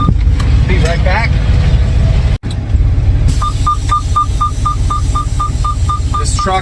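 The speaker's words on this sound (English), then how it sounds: "This truck beeps, man." A truck's reverse beeper sounds about a dozen evenly spaced, high-pitched beeps over a low engine rumble, following a short stretch of voices.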